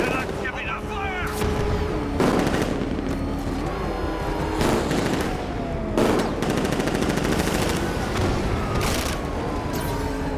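Heavy gunfire in Batman Arkham Knight, with repeated machine-gun bursts and booming blasts filling the scene, loud and continuous; voices shout over the shooting.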